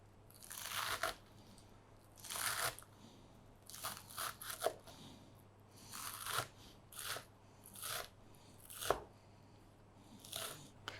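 Knife chopping green onion leaves on a board, a series of crisp crunchy cuts in irregular bursts, some quick doubles, close and fairly quiet.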